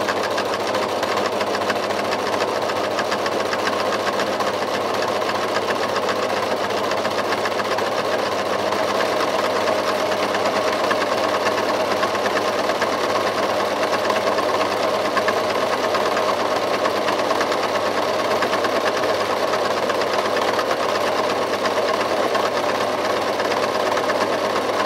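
A sewing machine runs steadily along the handle of a tea towel tote bag, a continuous close whirring hum for a long stretch without pause.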